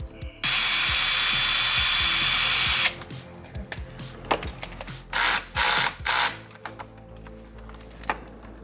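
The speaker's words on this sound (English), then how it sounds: "We're gonna drill a hole through the lip, and then we'll let the screw drill itself into the bumper." A power drill whines steadily for a few seconds, then bursts in short spurts as it bores through a Subaru STI bumper lip, with clicks and taps between.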